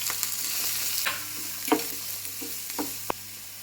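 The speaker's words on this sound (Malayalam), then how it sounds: "ഇനി ഇതിൽ നമ്മൾ അരിഞ്ഞു വെച്ചിരിക്കുന്ന സവാള ചേർക്കാം" Chopped onions fry in coconut oil in a pan for a bitter gourd masala curry, a soft steady sizzle punctuated by several spaced spatula scrapes and taps, close up and without talk.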